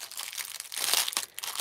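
Close, loud crinkling of sewing supplies ordered from Temu being handled, a run of sharp, irregular rustling bursts with no talk.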